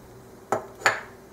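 Curry powder spices are stirred in a pot, heard as two sharp metallic taps of a spoon against the pot a moment apart, close and clear over a quiet background.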